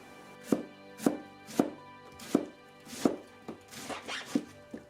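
A knife slices red cabbage into long strips on a cutting board, giving about nine crisp, close chops in a fairly steady rhythm that quicken slightly toward the end.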